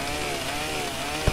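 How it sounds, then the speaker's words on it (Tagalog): A chainsaw in the video game 99 Nights cuts through trees with a continuous buzzing drone, steady and fairly loud for just over a second with a small knock at the end. "may chainsaw na ako."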